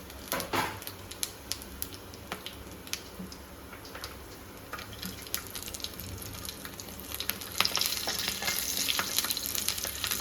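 Whole spices sizzle and crackle in hot oil in a pan while being stirred for a mutton gravy, a soft, steady frying hiss broken by small pops and scraping clicks, quiet and close, with no talking.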